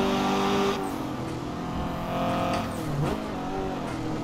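Turbocharged 700hp Spoon Honda Civic coupe revving hard in a racing video game traffic server, a steady loud engine drone that rises and shifts pitch through the whole stretch, with no talk over it.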